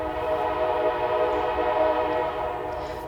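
A passing train sounds a long, steady horn blast nearby, loud and sustained across the whole moment with the rumble of rail cars underneath.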